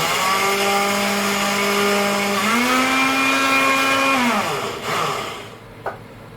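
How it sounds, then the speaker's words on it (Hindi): Mixer grinder whirring steadily as it grinds sugar into icing sugar, loud and close, its motor pitch rising briefly before spinning down and stopping near the end. "मिक्सर ग्राइंडर में आप डालिए और ग्राइंड कर लीजिए"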